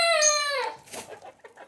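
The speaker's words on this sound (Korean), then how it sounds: "백봉오골개 낸 소리입니다" A white silkie bantam chicken gives a loud drawn-out clucking call that falls in pitch, followed by a few softer short clucks, nearby with no talk.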